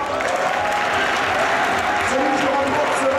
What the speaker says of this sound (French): On va s'applaudir encore.